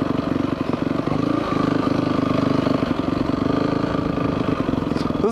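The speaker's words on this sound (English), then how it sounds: "This is like an adventure bike for me" An electric adventure motorcycle is ridden along, giving a steady, continuous drone with a faint rattle at close range and no voices.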